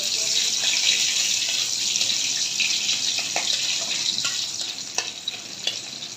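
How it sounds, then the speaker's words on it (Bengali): Onions frying in oil in a home kitchen while radish curry is prepared, a steady hissing sizzle filling the clip with a few small crackles and pops close up, no talking. "এখন পেঁয়াজ ভাজা নিব।"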